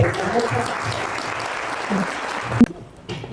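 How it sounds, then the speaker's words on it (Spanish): Listeners at a book talk give a full round of clapping that cuts off sharply, leaving a brief quieter moment before the room noise returns. "Así que le damos un aplauso a María Edwards"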